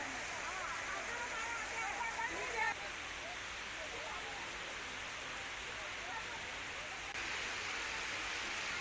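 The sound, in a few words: rainwater flowing down temple steps at Pavagadh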